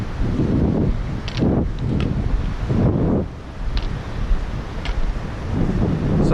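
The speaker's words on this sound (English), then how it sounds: "it's getting a little windy" Gusty wind near a bridge around seven in the evening, buffeting the microphone in rolling surges with a low roar, steady throughout and without speech.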